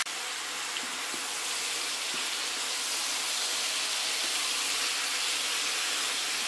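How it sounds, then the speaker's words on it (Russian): Beef pieces sizzle in a pan for beef stroganoff, a steady, soft frying hiss that holds evenly throughout with no talk. "А пока жарим, не помешивая, не размешиваем."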